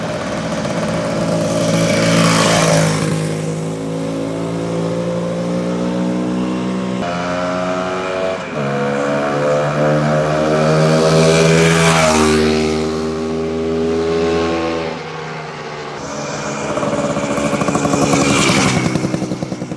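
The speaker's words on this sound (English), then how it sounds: "We're gonna do a little test ride down the street right now." Restored vintage 250 dirt bike motorcycle on a street test ride, its engine droning steadily with rising and falling revs as it pulls away and passes, loud and alone without talk.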